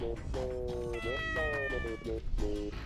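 A kitten meows in the video game Miitopia, a few clear tonal cries in quick succession, close and prominent over a low game background.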